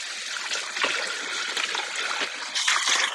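Water runs and trickles steadily while a Thermomix TM7 bowl is rinsed, a close, continuous splashing stream that swells louder near the end.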